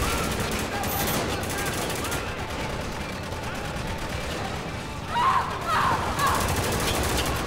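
Turret machine gun fire in the video game Spec Ops: The Line, a dense continuous rattle of automatic gunfire with a few sharper bursts near the end, loud and steady throughout.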